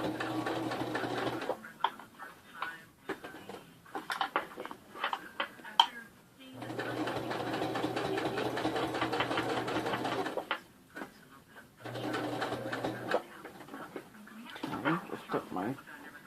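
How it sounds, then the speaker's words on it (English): A sewing machine top stitches through many stacked layers of a fabric bag, running in long steady bursts with pauses between them while a person talks. "you're sewing through a whole bunch of layers and you want that top stitch to look really, really nice"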